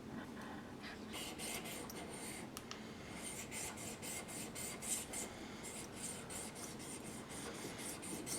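The back of a Stanley 45 plane iron is rubbed flat on an abrasive surface, a steady close scraping rasp with rhythmic back-and-forth strokes, quiet and continuous.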